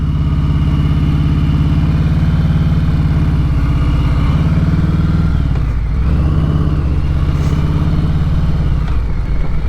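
Motorcycle engine fitted with a Klockwerks windscreen running steadily for a test ride, a loud close continuous idle with a brief dip in revs partway through and no talking.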